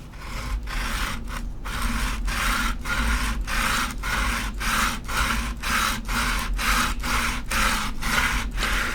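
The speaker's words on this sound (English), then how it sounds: "until we complete the sanding portion of the video" Rhythmic sanding strokes on wooden coasters, roughly a dozen steady back-and-forth scrapes, loud and close, with no talking.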